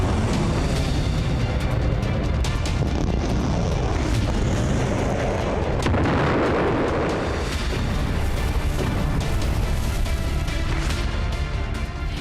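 Missile strikes and explosions during a Russian attack on Ukraine, with heavy continuous rumbling booms and echoing blasts that fill the whole stretch loudly, with no talk.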